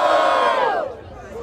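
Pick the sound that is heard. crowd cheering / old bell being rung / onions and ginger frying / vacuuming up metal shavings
crowd cheering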